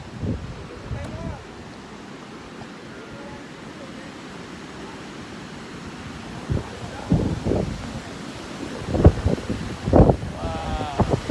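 Strong wind blows along the Solsona-Apayao Road on a sunny day, a steady rushing roar buffeting the microphone, while voices break in briefly toward the end.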